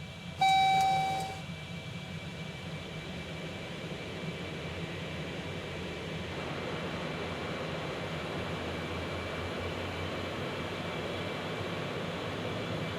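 Concorde jet engines roaring through a takeoff roll in X-Plane 11, departing Heathrow for JFK: a steady, broad rumble and whine that holds loud and even throughout, after a short electronic tone at the very start.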